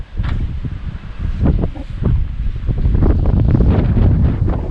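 Strong wind buffets the microphone in gusty, rumbling rushes in Helsinki, Finland, near the harbor, loud and continuous without a break.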